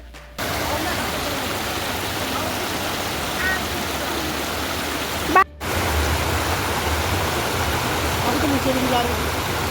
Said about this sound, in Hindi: I decided to make a gorgeous video of the waterfall